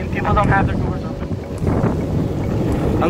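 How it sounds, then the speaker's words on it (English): Steady wind buffets the microphone with a low, continuous rumble, while faint voices murmur in the background. "It's a nice windy day"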